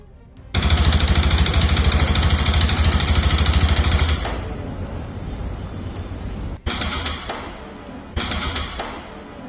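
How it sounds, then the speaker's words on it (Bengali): A CFMoto 300SR motorcycle engine runs loud and rough up close, then drops in level and sputters unevenly with a sharp knock-like break as it falters toward stalling. "কট করে যে সাউন্ডটা হইলো, এটা এই বাইকটাতে অনেক মাইল্ড হয়েছে"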